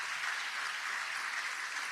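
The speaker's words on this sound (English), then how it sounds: "Let's give a round of applause for these outstanding women" An audience applauds a round for the women of the South Bend Common Council at a State of the City address, steady dense clapping with no voices on top throughout.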